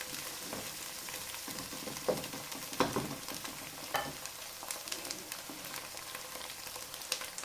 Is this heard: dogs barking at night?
no